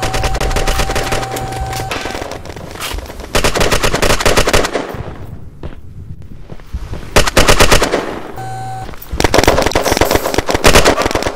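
Rapid automatic gunfire from the online shooter Red Crucible: Firestorm, loud bursts of machine-gun fire broken by short lulls, with one brief quieter stretch mid-way before the shooting resumes.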